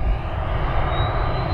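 An Airbus A320neo taxis at Cleveland Hopkins airport with a steady, loud jet engine roar and broad rushing noise, continuous throughout with no voices.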